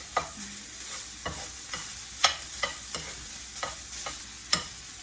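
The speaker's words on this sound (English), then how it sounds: "just mix it around so that flavor can incorporate with the meat" Ground beef fries in a pan with a steady soft sizzle while a utensil scrapes and stirs it, giving a series of sharp clacks roughly every half second, with no talking.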